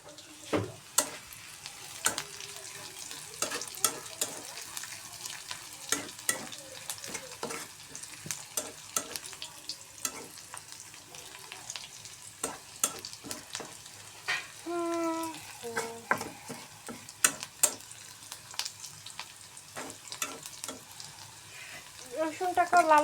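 Garlic and onion sizzle in hot oil over low heat for a masoor dal tempering, with frequent scraping spoon strokes against the pan and a few brief bubbling bursts, close and steady throughout.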